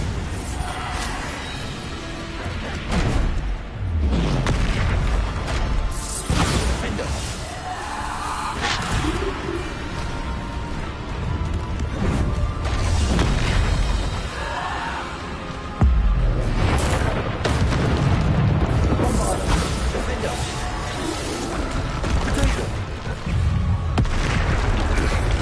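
Repeated Bombarda spell blasts in Hogwarts Legacy sound as heavy booms and crashes amid a dense, continuous din of combat effects, loud and layered with little pause.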